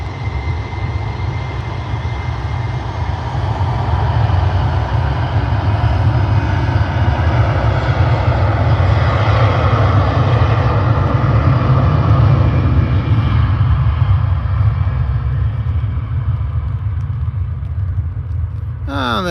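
A light plane takes off from the runway at Liverpool airport, its engine a loud, steady droning rumble that swells and holds for the whole stretch, heard from nearby.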